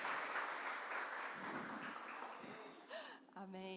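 A church congregation claps in a steady, dense wash of applause that fades toward the end, when a voice begins to speak over it.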